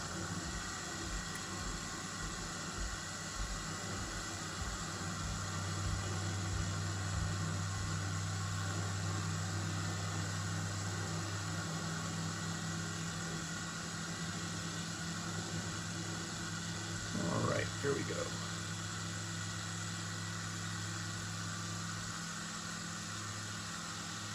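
A light aircraft engine drones steadily during takeoff in a flight simulator game, a low constant hum with a tonal buzz that rises slightly in intensity, and a brief louder disturbance near the end.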